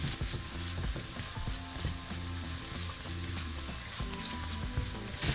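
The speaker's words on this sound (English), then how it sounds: "once our oil is hot, we're going to throw in our tomatoes and onions. And we're just going to saute them for a couple minutes." Tomatoes and onions sautéing in hot oil in a pan, a dense, continuous close-up sizzle and crackle with occasional stirring scrapes.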